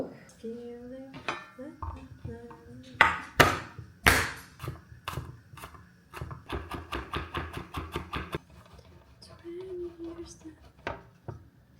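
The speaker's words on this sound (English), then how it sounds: "I just need to chop up some garlic" A knife chops garlic on a board in a home kitchen, a series of quick, sharp taps that speed into a steady run. Dishes clink now and then, and a voice murmurs in between.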